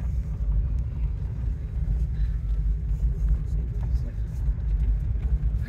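A drift car on its first drive gives a loud, low, continuous engine rumble heard from inside the car, pulsing slightly throughout.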